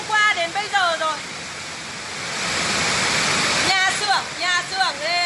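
Muddy floodwater rushes loudly and steadily through a flooded workshop area after torrential rain in Ha Giang near the Chinese border, with people talking before and after the roar.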